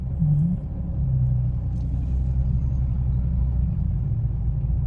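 A car pulls away in first gear on a road, with a low, steady engine rumble close by and no one speaking.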